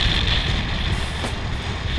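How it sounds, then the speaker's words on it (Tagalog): Steady, roaring wind before an approaching squall at sea buffets the microphone, a constant broadband rush with low rumble throughout and no voices. "Lakas na ng hangin."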